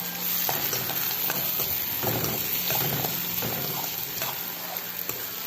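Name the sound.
frying moong dal (pesarapappu) in a pan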